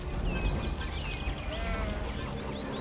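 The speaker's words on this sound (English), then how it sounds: "I hear sheep." Sheep in the game Cities: Skylines bleating in a farming area, several wavering calls heard moderately close over a steady rain-like background hiss.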